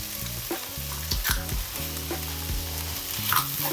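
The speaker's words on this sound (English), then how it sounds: "Just going to cook an egg on mine, so a little bit of fry light in the bottom." An egg fries in a pan coated with low-calorie fry light spray, giving a soft, continuous crackle with small pops and a faint tapping of utensils, heard alone and quiet.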